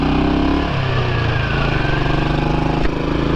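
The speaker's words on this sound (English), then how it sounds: "It's just putt along, make your single noises, dug, dug, dug, dug, dug, and enjoy the ride." A 2009 Royal Enfield Bullet single-cylinder motorcycle engine thumps steadily and loudly at close range, a continuous low putting drone with a slight change in pitch partway through.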